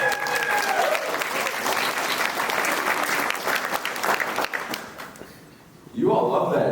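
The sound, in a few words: audience clapping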